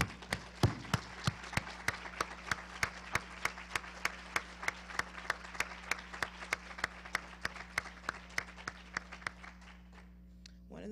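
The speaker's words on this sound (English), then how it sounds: "give him one more round of applause." Audience at a university Martin Luther King Jr. address claps in a slow, even, rhythmic unison beat, sharp regular claps over a low steady hum, fading out near the end.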